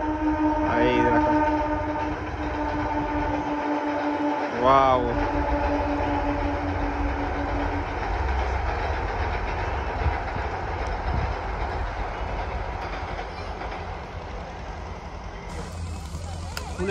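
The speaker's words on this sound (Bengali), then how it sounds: "এই দেখো ওই ব্রিজের ওপর ট্রেনটা দেখাচ্ছি তোমাদেরকে।" A train crossing a bridge near a flower garden sounds a loud horn twice early on, then rolls past with a steady clattering rumble that continues to the end. A person briefly exclaims in the background.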